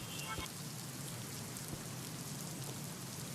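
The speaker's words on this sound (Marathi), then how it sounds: "ठाण्यात रात्रीपासून पावसाची संततधार सुरू होती" Steady rain falls continuously on surfaces in Thane, a faint, even patter with a few louder drops at the start.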